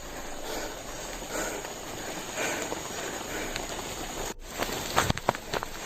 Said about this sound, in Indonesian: Ini kondisinya hujan ya.